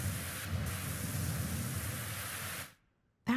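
Pressure washer spray in the Powerwash Simulator video game gives a steady, even hiss of white noise for several seconds, then cuts off abruptly into near silence before another sound begins.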